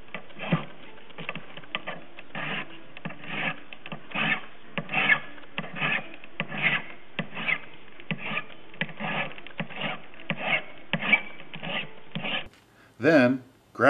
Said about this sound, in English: File each finding with a small flat file and remove the burrs.